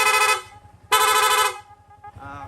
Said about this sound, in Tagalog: May rapid horn na rin po ito.